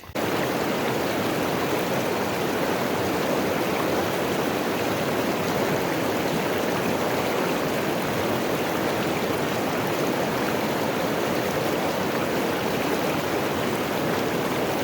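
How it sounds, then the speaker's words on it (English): A crystal-clear turquoise stream in Iceland rushes in a steady, full, unbroken flow of water noise, close and constant throughout. "it's a beautiful stream, crystal clear, turquoise water."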